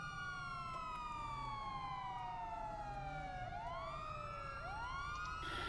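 Police car siren from a roleplay video game, wailing steadily as its pitch sweeps down and loops back up, loud and continuous over low engine rumble.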